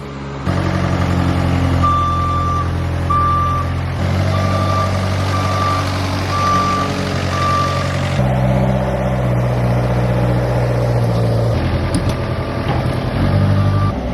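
A delivery truck carrying a Ducati Superleggera V4 Panigale reverses with a loud engine rumble and repeated evenly spaced reversing beeps, close by, with revving toward the end.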